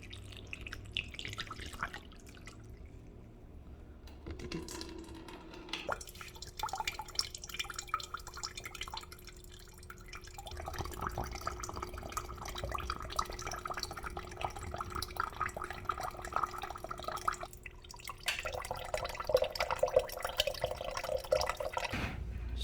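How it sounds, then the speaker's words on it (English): Distilled water poured through a motorcycle cooling system during a coolant flush on a Husqvarna Svartpilen or Vitpilen, with steady trickling and dripping that swells into a fuller running flow, close up and without talk. "So now I'm just going to be flushing the system with distilled water."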